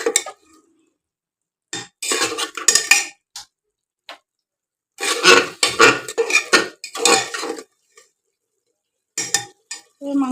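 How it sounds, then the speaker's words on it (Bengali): Spice masala for mutton being fried in oil and stirred in a pot, the oil already separating; scraping, clattering stirring strokes come in irregular bursts separated by quiet pauses, loud and close. "আর এই যে মশলা কষা হচ্ছে, মশলাটা তেলও ছেড়ে দিয়েছে।"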